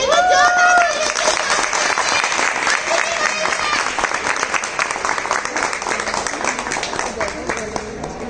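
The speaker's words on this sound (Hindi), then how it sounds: "जोरदार तालियां।" Steady applause from a large crowd fills the room, loud and continuous from start to finish.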